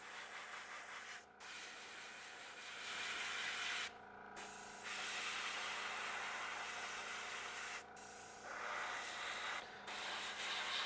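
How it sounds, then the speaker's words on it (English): Compressed air hissing from an airbrush to dry varnish on a figure, a steady close spray broken by a few short pauses. "with your airbrush, you can just let air out, and the air is gonna dry this varnish"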